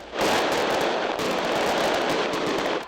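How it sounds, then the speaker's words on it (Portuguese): Fireworks burst continuously during a street protest, a dense, crackling barrage of rapid pops blending into a loud, sustained roar at close range. "Fogos de artifício acabaram chamando a atenção de quem acompanhava o trabalho da Polícia Federal de perto."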